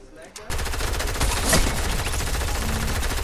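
Sustained rapid SMG fire in Fortnite, a dense, fast machine-gun rattle beginning abruptly after a brief quiet moment and continuing loud and unbroken to the end.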